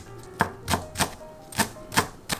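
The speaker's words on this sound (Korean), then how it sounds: "당근과 파를 다져주세요" A knife chops carrots and green onions on a cutting board while preparing steamed eggs, six crisp, close knocks with an uneven rhythm against a quiet background and no talking.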